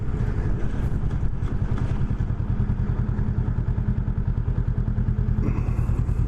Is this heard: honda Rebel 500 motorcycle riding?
yes